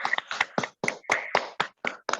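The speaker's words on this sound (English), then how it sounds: "Let's hear it for the Toastmaster, Table Topics Master and the speakers. A round of applause." Rhythmic hand clapping at a Toastmasters club meeting in Bangalore, a short, fairly close run of separate claps with slightly uneven spacing.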